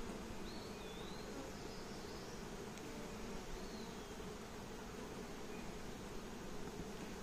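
Honeybees hum in a dense, continuous drone while a nuc hive is split open during installation, a faint steady buzz with occasional individual bees passing nearby.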